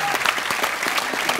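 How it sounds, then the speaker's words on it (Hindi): Studio audience applause on a Hindi comedy talk show, The Kapil Sharma Show, steady dense clapping throughout with no speech over it. "एक बार जोरदार तालियां"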